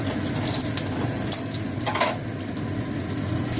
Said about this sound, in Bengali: এবার এই তেলেতে আমি পটলগুলো দিয়ে দেবো